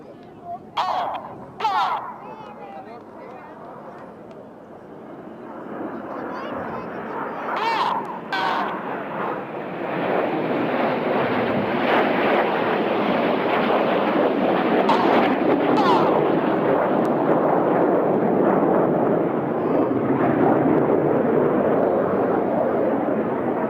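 Red Arrows jets fly a display at the Sunderland International Airshow, a roar swelling from distant to a loud, sustained rumbling wash overhead, with a commentator talking throughout.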